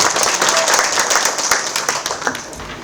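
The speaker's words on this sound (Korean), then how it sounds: "큰 박수로 맞아주시기 바랍니다." Audience applause fills a hall at the 2022 autumn international conference of the Korean Society for People, Plants and Environment. Dense, steady clapping from many hands runs close and loud for about three seconds, then starts to thin at the end.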